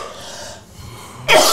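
A child coughs once, a single sharp, close burst near the end after a stretch of quiet room noise.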